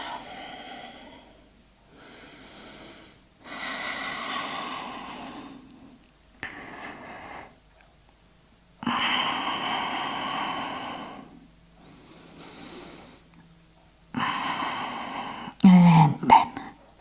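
Loud, close deep breathing during a Pilates workout: a series of long, forceful inhales and exhales in steady cycles, separated by short pauses.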